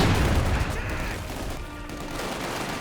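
Submachine gun fire from Soviet conscripts crackles in a Company of Heroes 2 battle, a dense burst of rapid shots at the start that fades into scattered distant gunfire.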